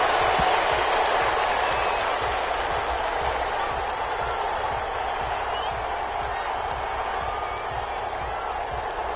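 An NFL stadium crowd at a New York Jets versus Minnesota Vikings game roars and applauds steadily, a dense, continuous wash of cheering with scattered whoops, while a commentator talks over it.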